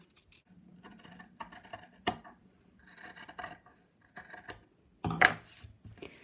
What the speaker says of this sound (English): So the next step is to trim a small amount away from the edge